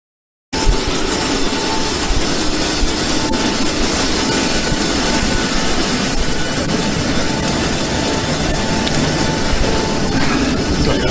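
Steady, loud aircraft engine roar from a landing plane, a continuous broadband drone with a high whine on top, starting abruptly after a brief silence and holding constant throughout with no talking.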